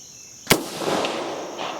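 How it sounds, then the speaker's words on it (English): An AR15 can cannon fires a full Mountain Dew can using a mid-range blank, one sharp, loud, nearby bang followed by a short wash of echo and rustle. "let's see how far we can shoot this can"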